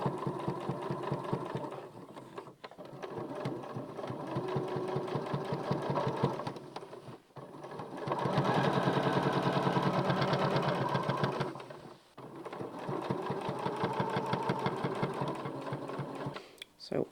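A sewing machine runs in steady bursts, stitching along the edge of a quilt-as-you-go cushion cover, its fast mechanical whir close and loud with brief pauses between runs, while someone talks over it.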